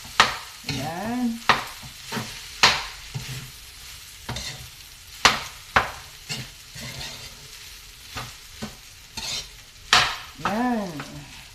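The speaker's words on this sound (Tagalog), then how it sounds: "You just mix it, the rice, and the ricado." Homemade fried rice stir-fried in a pan, with a spatula scraping and knocking against the metal in irregular strokes over a soft sizzle. Sounds close and moderately loud, with no voices.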